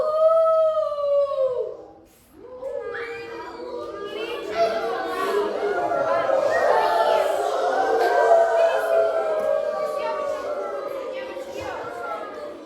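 A voice imitates a wolf's howl, a long rising and wavering cry held for several seconds after a short opening call.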